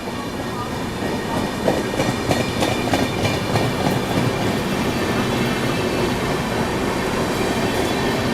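A Dhanbad Special passenger train runs steadily along the rails with continuous loud rumble and clickety-clack of wheels, speeding up, heard close by from a passing train.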